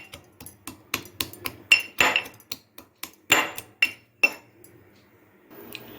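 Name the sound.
pounding garlic cloves for tomato rasam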